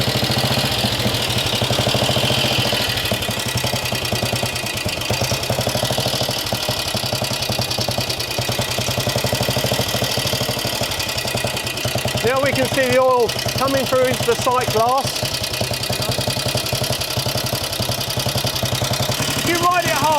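A Norton 16H 500 side valve single-cylinder motorcycle engine idles steadily and loudly throughout, a continuous thumping run with someone talking over it near the middle and end.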